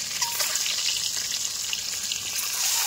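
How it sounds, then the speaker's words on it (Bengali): Eggs rubbed with salt and turmeric fry in hot oil for an egg dopyaza, giving a steady, close, dense sizzle with small crackling pops and no talk. "আমাদের ডিম ভাজা কমপ্লিট"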